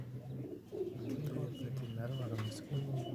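Pigeons coo steadily in a loft of racing birds, a close, repeated low burbling that carries on under a voice speaking throughout.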